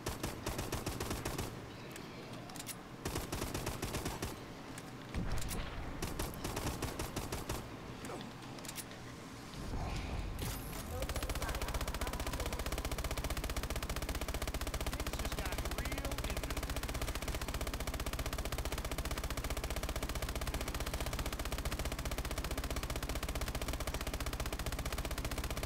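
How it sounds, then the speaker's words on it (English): Pistol being emptied in COD: Advanced Warfare Exo-Zombies, with bursts of rapid gunfire that become a dense, sustained barrage of loud shots over background game noise. "Might as well empty out the pistol ammo."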